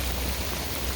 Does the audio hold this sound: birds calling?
no